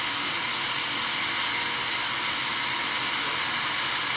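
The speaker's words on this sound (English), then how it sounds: "So what we're going to do is we're going to turn on our shop vac." A shop vac roars steadily and loudly as it draws maple syrup through a vacuum filter press at a sugar bush, a constant broadband whoosh with no talk.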